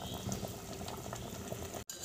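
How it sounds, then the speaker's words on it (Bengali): Singi fish curry with water, slit green chillies and roasted spices bubbling steadily in a pot, a continuous close simmering texture that cuts off briefly near the end. "মাছটা ফুটতে শুরু করেছে"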